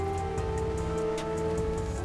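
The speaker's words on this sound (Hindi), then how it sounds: "पानी की बूंदें भी जिंदगी का हिस्सा हैं।" Rain falls steadily in an animated village, a dense, even patter of drops with a faint droplet ticking throughout.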